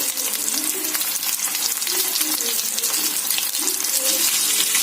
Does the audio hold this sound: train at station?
no